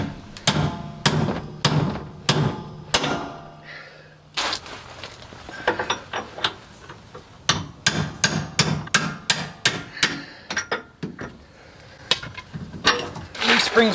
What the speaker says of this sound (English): I'll try to hammer out this center one